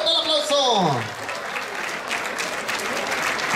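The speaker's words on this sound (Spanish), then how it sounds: "Venga, venga el aplauso, sí señores, venga, fuerte el aplauso." Audience applause at a nighttime rodeo show in Veracruz, steady dense clapping from a crowd, with an announcer's voice talking over the start of it.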